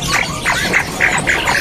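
Puyuh gonggong quail calling at a bird market, a run of five or six short, loud squawking notes repeated in quick rhythm close by, over steady market background noise.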